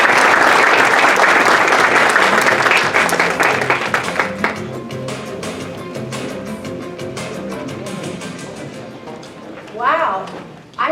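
An audience claps loudly to welcome a keynote speaker at a meetings event, dense applause that fades gradually, with a voice briefly heard near the end.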